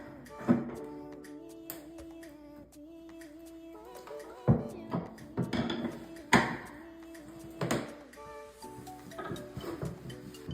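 A screwdriver turning a bathtub drain counterclockwise gives scattered metallic clicks and knocks, a few louder clanks spaced a second or two apart, and faint scraping between them.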